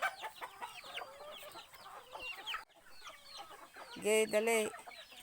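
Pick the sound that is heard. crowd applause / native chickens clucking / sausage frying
native chickens clucking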